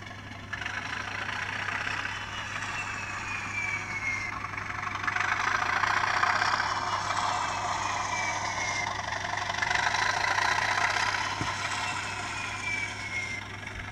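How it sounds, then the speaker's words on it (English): A Bachmann Class 37 model diesel locomotive plays its sound effects as the controller is turned up, a steady rumbling diesel engine note revving and swelling over a constant low hum, no talk. "turn my controller up, and it should change the engine sounds, but without changing the speed of the loco"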